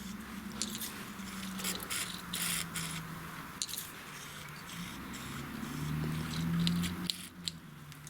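A can of MAF sensor cleaner spray sputters and spits instead of spraying evenly, giving irregular hissing bursts and crackles close up over about eight seconds, with no talking.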